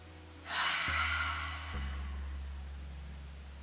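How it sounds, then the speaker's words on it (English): A long, soft breath is drawn in through the nose during a gentle stretching session, close and airy for about a second, over a low steady background tone that shifts slightly. "You might hear an audible sound in the ears of the breath as you breathe in through the nose."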